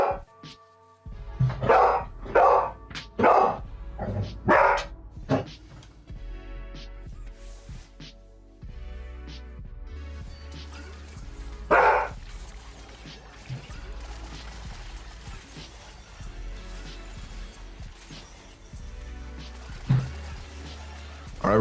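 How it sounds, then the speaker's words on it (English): A dog barking indoors near someone playing Teamfight Tactics: a burst of several loud close barks in quick succession at the start, then a long quieter stretch with faint game sounds and one more isolated bark later. "I'm gonna try to remember and put the barking out of the video"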